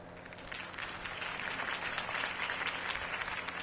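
A crowd applauding steadily after a mayoral campaign speech in the video game Batman: The Telltale Series, sustained clapping at moderate distance with no break.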